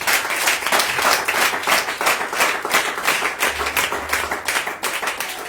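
A church congregation claps and applauds in praise of God, a dense, steady patter of many hands close by, sustained throughout with little talk.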